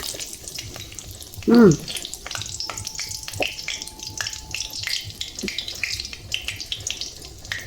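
Bay leaves and dried red chilies fry in hot oil for a soyabean kofta curry, a continuous close sizzle with scattered stirring clicks and a short squeaky scrape near the start.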